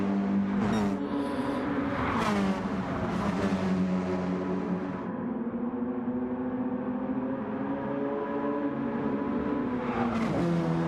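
Race cars roar past on a televised motor race circuit, an engine drone holding steady at a distance while occasional revving swells rise and fall over about eleven seconds.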